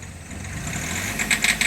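A Hyundai Xcent or Grand i10 engine with an injector fault runs close by, a low idle rumble with quick light tapping knocks near the end of a brief stretch.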